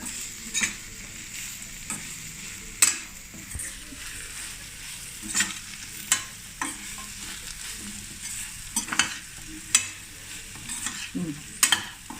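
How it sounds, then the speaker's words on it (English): Stirring idli masala fry after cilantro leaves go into the pan: a spoon scrapes and clacks against the pan in repeated strokes over a soft, steady sizzle, close and moderately loud, with no talking. "let's add the cilantro leaves. Give it a quick stir."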